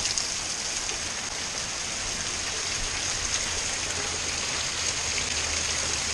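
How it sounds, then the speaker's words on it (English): Steady rain falling outdoors on a rainy day, a dense continuous hiss of drops on surfaces that holds evenly throughout, close and fairly loud, with no voices. "Froggy, ain't you got enough sense to come in out of the rain?"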